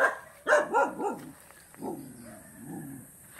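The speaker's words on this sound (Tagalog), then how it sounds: "Ay, aso nga eh." A dog barks a few times in quick succession, followed by softer whining yelps, heard at moderate distance in a rural village near Baybay City, Philippines.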